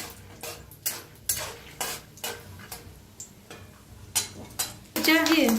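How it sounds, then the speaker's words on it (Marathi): Peanuts roasting in hot oil for a brinjal bharit recipe, a faint steady sizzle under repeated scraping and stirring clatter in the pan, ending in a louder burst of frying and clinking. "शेंगदाणा तेलात भाजून घेऊया आपण"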